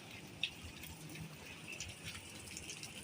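Floodwater on a road by the East West bridge in Virar West flows with a quiet, continuous wash and splash under the monsoon rain, faint and steady, with a brief louder splash.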